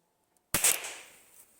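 A single sharp, close gunshot crack from a small rifle, followed by a brief fading echo.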